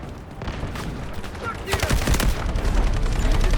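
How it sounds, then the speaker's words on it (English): Artillery barrage in the video game Delta Force, a dense, rumbling wash of rapid gunfire and booming impacts that swells louder midway and keeps rolling, with a brief voice underneath. "Artillery barrage incoming."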